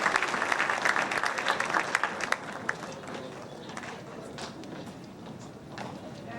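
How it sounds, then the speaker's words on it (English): A school awards-night audience applauds the Triton Award winners, dense clapping strongest at the start, then thinning to scattered claps over a murmuring crowd. "Please give another warm round of applause to all of our Triton Award winners this evening."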